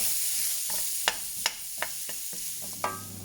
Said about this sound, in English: we're going to just gently fry them, not too high a heat